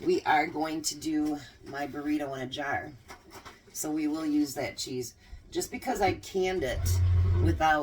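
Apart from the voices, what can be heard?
No everyday noises stand out.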